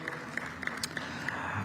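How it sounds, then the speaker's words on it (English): Scattered audience applause at a national competitiveness forum, a thin, fairly distant patter of claps spread over about two seconds with no voices over it. "Another round of applause, ladies and gentlemen."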